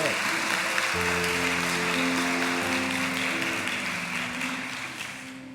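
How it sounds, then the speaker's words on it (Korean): A church congregation applauds at a women's worship service, broad clapping that fades slowly while sustained organ or keyboard chords play underneath. "우리 큰 박수로 한번 감사해"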